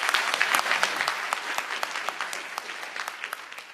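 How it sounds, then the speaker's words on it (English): Audience applause at a comics convention welcome address, dense steady clapping from a crowd that holds throughout without easing off. "Give them a round of applause."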